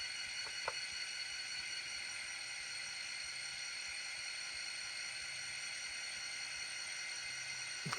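A ScaleTrains N scale SD40-2 model locomotive runs in notch 1 with a faint, steady motor whine and hum, opened by a couple of tiny clicks.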